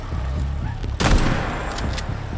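A single sharp gunshot cracks out in Atomic Heart, loud and close, over a steady low game rumble with a couple of fainter clicks after it.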